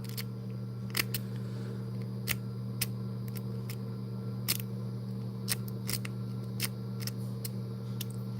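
Raking the pins of a Master Lock 141 padlock makes sharp, scattered metallic ticks and clicks, about a dozen in all, over a steady low electrical hum, close and fairly quiet.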